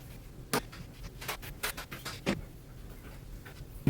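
Scissors cut through fabric for a swimsuit cover-up, giving a few crisp, close snips spaced irregularly over a quiet room.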